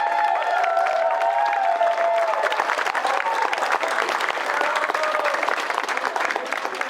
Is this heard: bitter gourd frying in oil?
no